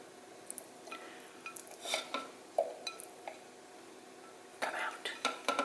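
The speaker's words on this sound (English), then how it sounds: "Cooked onions. We're going to add those to the food processor." Cooked onions scraped into a food processor for homemade hummus, with soft scattered clinks and scraping taps of a utensil against the bowl, close and quiet, alongside faint low talk.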